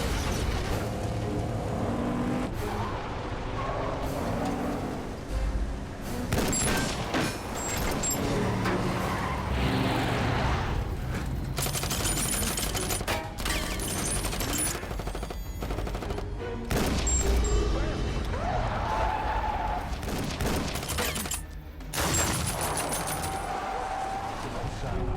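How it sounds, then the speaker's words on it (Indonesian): Gunfire rattles and tyres skid in a film car chase, with a car reversing and then speeding toward an old barn beside the road while a shooter keeps firing; the sound is loud, dense and continuous, with shots and engine noise layered over a dramatic score. "Lena langsung memundurkan mobilnya dengan Simbah yang terus menembaki, memacu menuju lumbung tua di pinggir jalan"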